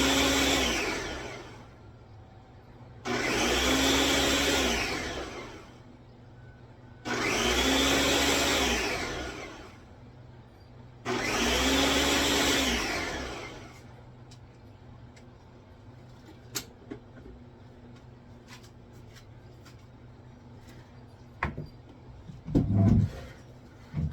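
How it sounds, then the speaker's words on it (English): A countertop blender running its smoothie program loudly whirs in four long pulses of about three seconds each, separated by short pauses, then stops, leaving quiet with a few faint clicks and knocks. "So go on the blender, make sure everything is locked. And I'm hitting smoothie on this thing."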